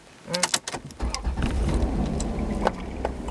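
A car's engine is started and settles into a low, steady idle; sharp clicks and clunks from inside the cabin come first, then a continuous rumbling hum with a brief rise near the end.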